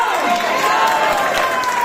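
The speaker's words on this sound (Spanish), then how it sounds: "Aplaude si va a aplaudir esta mañana para fuerte." A church congregation claps during a morning service, a dense wash of applause with a speaking voice over it.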